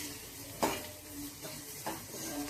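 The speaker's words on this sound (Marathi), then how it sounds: "हा आपण कांदा चांगला परतून घेऊया" Onion sautéing with masala in a pan for a whole masoor amti, a gentle steady sizzle broken by a few stirring scrapes and clinks of the spoon against the pan.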